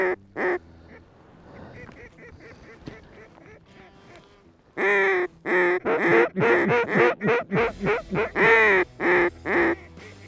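Mallard ducks quacking in a field in South Dakota in November, a few scattered quacks at first, then a loud, close run of rapid repeated nasal quacks in a steady rhythm.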